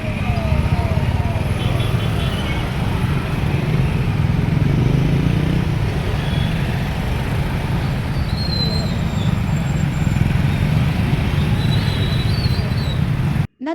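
Motorcycles in a police-organised helmet awareness bike rally during a road safety week, their engines droning continuously as a steady, loud traffic roar with no clear breaks.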